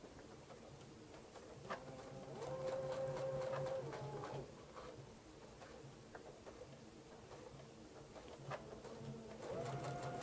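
A home sewing machine stitches a seam through pieced Log Cabin Courthouse Steps quilt blocks: a steady, fairly quiet mechanical whir and rapid ticking that runs in stretches, speeding up and easing off, with no talking.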